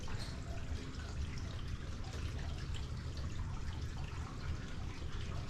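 Water trickles and runs steadily as bathroom plumbing in a commercial building fills back up, a faint, continuous hiss with soft dripping and no talking.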